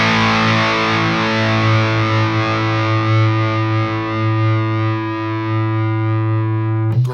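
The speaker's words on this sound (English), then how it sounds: "Great drive pedal." A DevTech Audio Skylight overdrive pedal drives an electric guitar through a single sustained, harmonically rich chord, with the distorted note ringing steadily for several seconds before being cut off.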